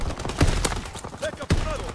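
Gunfire in a WW2 video game battle, a few sharp loud shots spaced apart amid dense battlefield noise, with chatter in the background.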